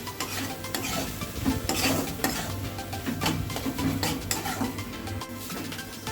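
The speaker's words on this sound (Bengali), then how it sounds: "এবার এটাকে দিয়ে খুব ভালো করে নাড়াচাড়া করবো যাতে লেগে না যায় মশলার সাথে খুব ভালো করে এগুলো ভেজে নেবো আমি" Fish with spices being stirred and fried in a pan, with continuous close scraping and clattering of a spatula against the metal over a constant sizzle.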